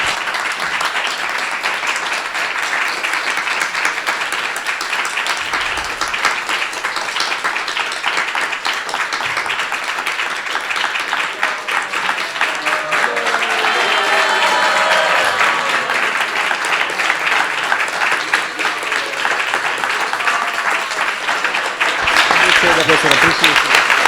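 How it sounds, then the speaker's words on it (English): A large audience claps loudly and continuously after a spiritual lecture, a dense sustained wash of applause that swells and keeps going for a long stretch, with voices audible beneath it. "This clap is our appreciation. Let's express loudly clapping."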